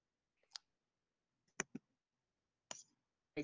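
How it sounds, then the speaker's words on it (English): A few sharp clicks of keys, spaced in small clusters with quiet gaps between, like intermittent typing on a keyboard nearby. "you couldn't sound any louder while typing"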